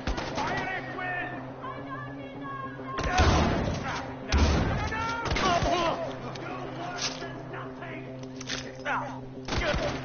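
Gunfire in the video game Far Cry 4, bursts of shots and heavy thuds rising in loud clusters around the middle and end, mixed with game sounds and voices talking over the action.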